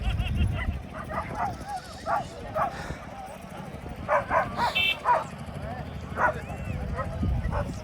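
Hunting dogs at a village dog show bark in short, repeated bursts amid crowd chatter, with several yips close by and more distant barking in the background.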